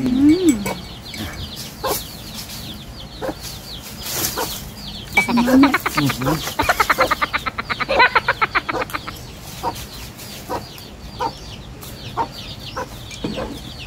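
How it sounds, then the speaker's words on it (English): Chickens cluck and call around an outdoor breakfast spot in the Philippines, with a rooster-like squawk and rapid repeated clucking bursts, fairly close, amid background chatter. "You can definitely hear the chicken."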